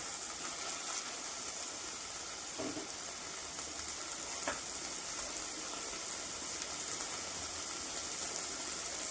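Spices sizzle in hot oil while being sautéed for a moong dal snack, a steady, fairly quiet frying hiss that runs unbroken throughout with no voices.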